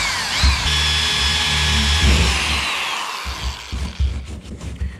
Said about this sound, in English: I'm just going to drill right through it.